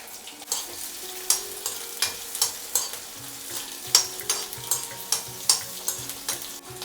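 Chopped onion and chilli sizzle steadily in hot oil, tempering for a fiddlehead fern dish, with regular scraping clinks of a spoon stirring the pan, close up.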